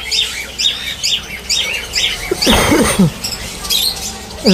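Repeated chirps from cockatiels, Jhorna (pied) cockatiels, in a bird shop, with a dense flock of mixed cage birds behind them and a louder burst of calls midway.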